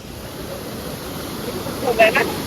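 Water rushes steadily at a monsoon waterfall near Dombivli and Kalyan, a broad constant roar with some wind noise, and a brief voice rises near the end.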